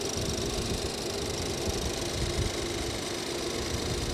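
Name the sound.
Ford EcoBoost engine idling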